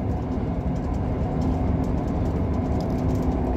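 A Class 158 Sprinter Express diesel train, unit 158863, rumbles with a steady low drone and rattle that holds even throughout, close by and without any voices.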